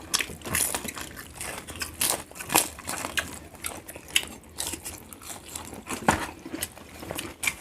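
Someone bites and chews crunchy Korean fried chicken close to the mouth, producing repeated crisp crunches and crackles in an uneven rhythm. No voices are heard.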